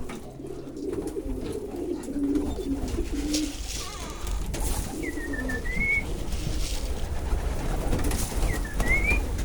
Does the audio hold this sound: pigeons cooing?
yes